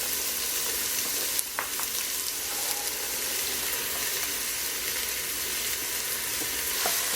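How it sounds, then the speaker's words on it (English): Onions, celery and carrots sauteing in bacon grease for a corned beef and cabbage soup give a steady, close sizzle throughout, with a few faint clicks and stirring taps. "I'm gonna let this saute probably for 5 minutes or so until the onions start to become translucent"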